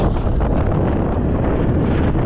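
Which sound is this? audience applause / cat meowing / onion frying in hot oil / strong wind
strong wind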